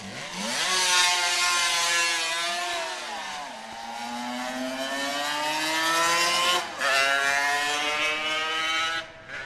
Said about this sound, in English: On board the 1976 RG500 Suzuki, Phil rode in his final world championship